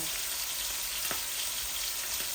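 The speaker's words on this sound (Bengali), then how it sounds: "এই একটু খোলামেলা হাঁড়ির মধ্যে বসাইছি, ভালো করে ভাজবো।" Radish frying in an open pot, a steady close sizzle and hiss throughout with a few faint clicks of stirring, no talking.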